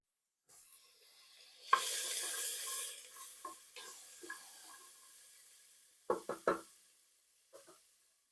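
Chopped onions go into a teaspoon of olive oil in a hot pan and start a steady, bright sizzle that holds for several seconds, broken by a few close knocks and clatters near the end.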